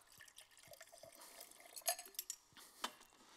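A speaker at a tech conference drinks water from a glass, with faint clinks, soft liquid sounds and a few sharper glass taps close by in a quiet room.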